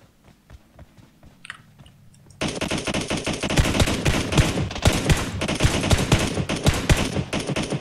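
Rapid automatic gunfire from the PUBG video game, a few faint shots at first, then a sudden loud, sustained burst of dense rattling fire that continues to the end, with no talk over it.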